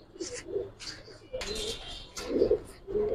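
Giribaz pigeons at a loft coo in low, throaty bursts, several calls close by, with faint chirps and some rustling between them.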